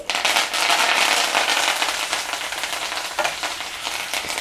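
Mustard seeds, cumin and curry leaves hit hot oil in a pan, giving a loud, dense crackling sizzle with popping that stays steady and close throughout.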